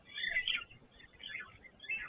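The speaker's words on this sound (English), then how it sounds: "the birds that we can hear there are these red-billed buffalo weavers" Red-billed buffalo weavers calling near their nest in a tree by an African waterhole, bursts of bright chattering calls repeating in three clusters, moderately close and clear.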